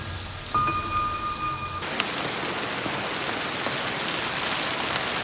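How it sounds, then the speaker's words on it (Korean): Steady, loud rain falls on a road in a continuous hiss after a brief tonal sound at the start, with no voices throughout. "그때 비가 내리기 시작하고"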